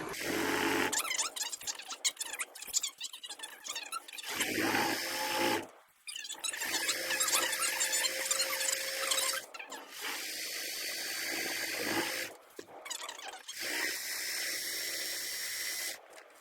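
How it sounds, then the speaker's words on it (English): A sewing machine runs a straight stitch line on a pillowcase with stitch length set at 2, whirring steadily and close, broken by brief pauses between bursts of stitching. "I'm just going to start sewing a straight line."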